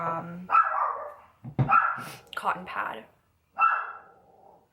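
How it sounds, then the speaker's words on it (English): A dog barks three loud, close times in separate bursts while someone talks indoors, her voice running between and under the barks. "Sorry about the dog."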